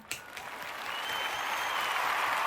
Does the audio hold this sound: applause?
yes